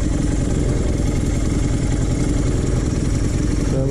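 An engine called Humphrey idles at about 1200 RPM, a loud, close, steady mechanical rumble with a fast even clatter that runs unchanged throughout.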